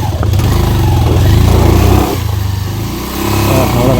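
A motorcycle climbs an off-road hill track near a hilltop tribal village, its engine loud and close, revving hard with rough, rising and dipping throttle bursts.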